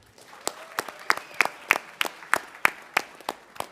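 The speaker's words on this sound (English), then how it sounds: "How about a round of applause?" Scattered audience applause at a Board of Education meeting recognizing a student team, a dozen or so sharp, distinct claps in a steady rhythm, fairly close and moderately loud, with no talking over them.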